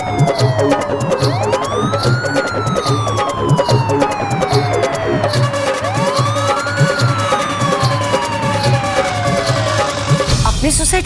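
An ambulance siren arriving in a residential housing society, a loud rising-and-falling wail that repeats in steady sweeps over a rumbling engine, growing close before cutting off at the end.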